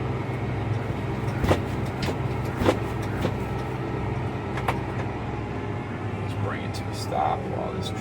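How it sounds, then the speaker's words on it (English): A large truck rumbles past a John Deere 7R 330 tractor over a constant low engine drone, with a few sharp clanks and a faint squeal near the end. "Stop while this truck comes past us."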